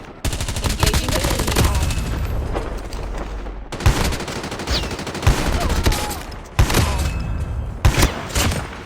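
Rapid, sustained shotgun fire in a first-person shooter video game, with loud, dense bursts of blasts and heavy thumps, broken by brief pauses between volleys.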